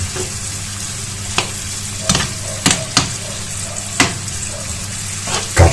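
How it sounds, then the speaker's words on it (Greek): Chopped onion sizzles loudly in a hot pan, sautéing for Greek baked okra, while a utensil scrapes and stirs through it in intermittent strokes over a steady frying hiss. "Ανάβουμε την εστία και θα σοτάρουμε το κρεμμύδι μας."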